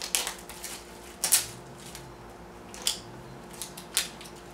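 A knife slices and snips through the plastic packaging of a bicycle tube, making several sharp, crisp cutting and crinkling bursts spaced by short pauses, close by and fairly quiet.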